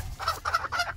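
A hen named Georgiana gives a short run of soft clucks, three quick close-up notes in a second, with no voices over it.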